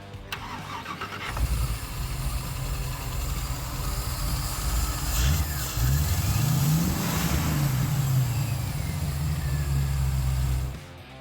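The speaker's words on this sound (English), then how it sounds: "An all-steel car powered by a Buick 401 nailhead, this car is absolutely to die for." A 1930 Ford Model A Cabriolet hot rod with a Buick 401 nailhead V8 cranks over and fires up, then idles with a deep loud rumble and several throttle blips rising and falling before cutting off.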